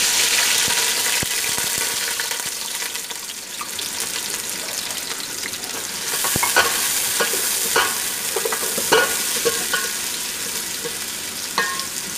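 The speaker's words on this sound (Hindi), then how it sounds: "फिर हम प्याज डाल देते" Sliced onions frying in a pan of hot oil, sending up a dense, steady sizzle with scraping stirs and occasional sharper crackles, close and loud, no voices.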